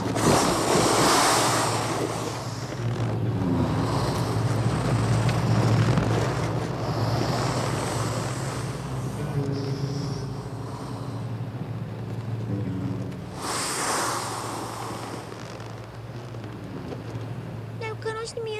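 Meltwater from melting snow rushes in a steady broadband roar like surf, swelling at the start and again near the end, with voices and sparse music partly audible over it.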